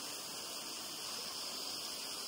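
Waghbil waterfall near Badlapur pours in a steady, unbroken rushing roar of falling water, even and close throughout.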